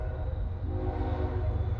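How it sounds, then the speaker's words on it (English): Train with four engines passing near a house, a deep rumbling drone with a sustained horn blast layered over it, loud and steady throughout. "trains going by."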